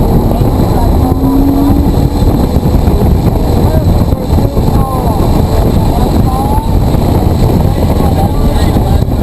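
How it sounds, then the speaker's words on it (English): Nissan GT-R accelerating at full throttle on the Blackhawk Farms Raceway circuit, a steady loud engine roar heard from inside the car, sustained throughout with a voice talking over it. "we'll accelerate out and full throttle all the way out"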